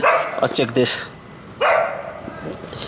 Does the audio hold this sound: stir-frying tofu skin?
no